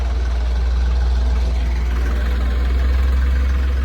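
A truck engine idles steadily at close range with a strong low rumble while the vehicle is being reversed, alone and without speech.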